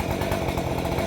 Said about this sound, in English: The only way to get through this is to chainsaw it.